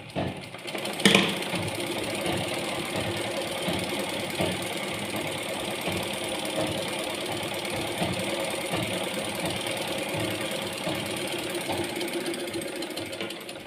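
A sewing machine stitches cloth, a steady close mechanical whirr with a faint rapid chatter running throughout and one sharp click near the start.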